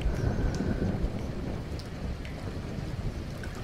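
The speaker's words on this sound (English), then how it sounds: "That thunder!" Rain with rolling thunder in the horror video game The Cat Lady, a dense steady patter under a low continuous rumble, moderately loud, with no talking.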